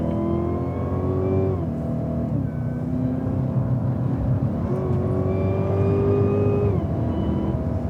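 A Cadillac CTS-V accelerates hard on a race track. The engine note climbs through several gear changes, rising and then dropping at each shift, and it stays loud and steady the whole way with no talking.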